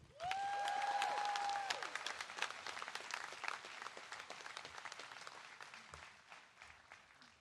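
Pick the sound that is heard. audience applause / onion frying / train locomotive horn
audience applause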